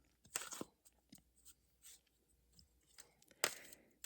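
A deck of tarot cards is shuffled by hand in a hushed setting, giving faint, close, crisp riffling bursts at the start and again near the end, with soft papery rustles between.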